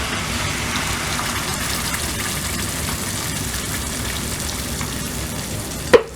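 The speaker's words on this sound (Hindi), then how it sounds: "अभी हम इसमें जो ग्राइंड किया था पालक और मसाला वो सारा डाल लेंगे अभी।" Steady loud sizzling of ground spinach and masala poured into hot tempering oil for palak saag curry, a dense continuous fry with a brief clink near the end.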